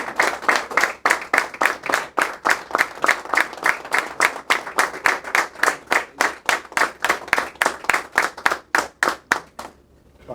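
An audience applauds at the close of a philosophy lecture on Plato's Symposium at a university school of philosophy, a steady, dense roll of many hands clapping that continues for about ten seconds before tapering off abruptly.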